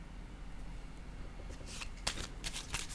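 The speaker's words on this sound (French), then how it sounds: "Je vais déposer une carte ici." A tarot card is laid down on a table during a reading, giving a few soft, quick papery slaps and rustles near the end, close up and fairly quiet against a steady low background hiss.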